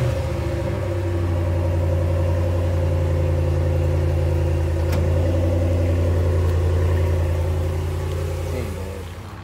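A 2018 Dodge Ram Big Horn pickup with its stock exhaust before a muffler delete, a loud, steady low engine rumble idling close by with a slight swell in the middle, no talking.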